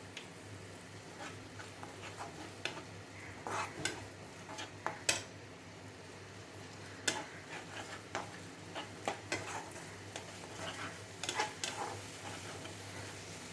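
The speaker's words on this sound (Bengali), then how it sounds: "সেই মশলাটা এবার দিয়ে দেবো এর মধ্যে, দিয়ে কষাতে থাকবো" Spice paste is sautéed with bhetki fish in a pan, giving quiet, intermittent scraping and tapping of a spatula against the metal over a low frying sizzle, with irregular clinks.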